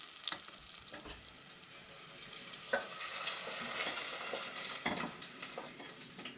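Mushrooms frying in olive oil and butter in a pan, a steady soft sizzle with occasional sharper crackles and stirring clicks, fairly quiet and close, no voices.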